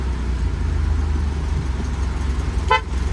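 A single short horn honk from a 1972 Toyota Corolla Sprinter sounds over the steady rumble of its idling engine nearby.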